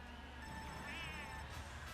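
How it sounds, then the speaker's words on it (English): A cat meows inside a Mario Kart 8 Deluxe DS racetrack, a short high-pitched call rising over steady game music and engine drone, clearly placed in the mix for about a second. "Sounds like Mr. Cat."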